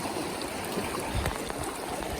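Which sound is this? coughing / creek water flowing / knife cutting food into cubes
creek water flowing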